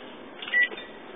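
A kitchen timer on a stove being set before baking meatloaf gives a brief electronic beep, one short tone standing out over low room noise.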